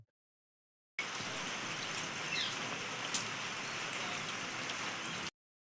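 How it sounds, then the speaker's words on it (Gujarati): Steady rain pours down during a hot season in a Gujarati village, a dense, continuous hiss of drops on surfaces that holds even throughout, with no voices. "જો આ બધો વરસાદ વરે છે"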